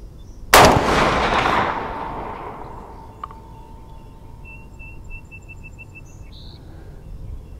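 A single loud rifle shot from a .444 Marlin fired outdoors, a sharp crack followed by a long rolling echo that fades over a couple of seconds, with faint birdsong afterward.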